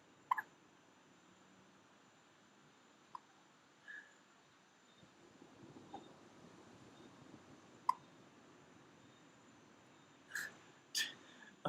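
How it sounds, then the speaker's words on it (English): Hiccups from a person at home at night, a handful of faint, brief catches scattered across a quiet background, spaced irregularly with a couple close together near the end. "You have the hiccups?"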